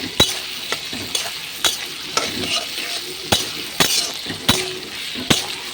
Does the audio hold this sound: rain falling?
no